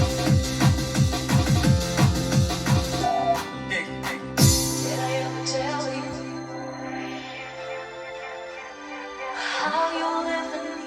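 Happy hardcore tune bursting into its first main section after the drop, with pounding kicks, a chopped vocal sample and bright synths, loud at first, then thinning into a sustained pad before building again.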